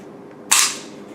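A single sharp metallic click-snap as the safety lever is moved on a Molot VEPR FM-47-21 AK-pattern RPK-style folding rifle, close and crisp against a quiet background with no one talking.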